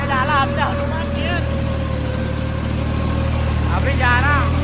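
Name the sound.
tractor engine running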